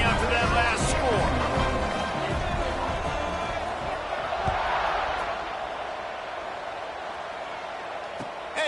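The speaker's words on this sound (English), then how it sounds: "this crowd is buzzing after that last score" A college football stadium crowd at an Arizona State game keeps up a loud, steady roar and buzz after a score, with a commentator talking over it throughout.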